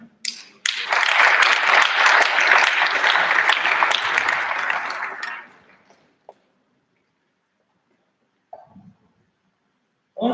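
Audience at a law week event applauding, a burst of dense clapping that runs for about five seconds, then fades into near silence broken by a few faint knocks and brief voices.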